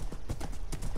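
Horse hooves clip-clop in a video game, a quick run of close, distinct thudding steps in a steady trotting rhythm.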